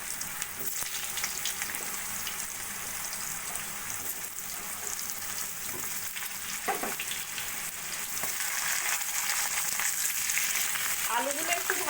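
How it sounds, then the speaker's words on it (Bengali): Cut potatoes fry in hot oil with cumin, bay leaf, cardamom and cinnamon, giving a steady close sizzle with occasional stirring scrapes and light clatter throughout. "আলুগুলো একটু ভাজা ভাজা করে নেব।"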